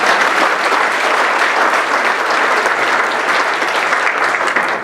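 An audience at a talk bursts into steady, dense applause, loud and close, clapping sustained evenly for the whole stretch with no voices over it.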